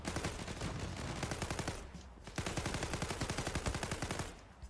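Rapid automatic gunfire in the online shooter Zula hammers out in two long, loud bursts split by a brief pause, each shot a sharp crack in a fast, even rhythm.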